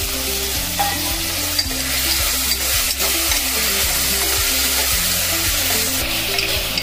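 Tomato frying with onion in a pan, a loud, continuous close sizzle with steady stirring scrapes and a low rhythmic hum underneath, no voices.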